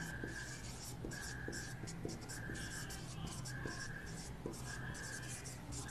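Pen writing a phenotypic ratio on paper or a board during a Class 10 biology lesson, with soft rhythmic scratching strokes and short repeated squeaky marks, close and quiet, with faint background hiss.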